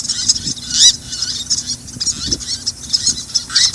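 Repeated high chirping bird calls in a video game over a steady ambient hiss, fairly loud and close, tweeting in short irregular bursts with no talking.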